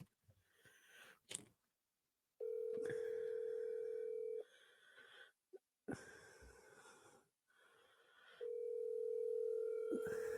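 A steady telephone dial tone sounds in two long stretches while someone places a call, broken by brief silences and faint clicks.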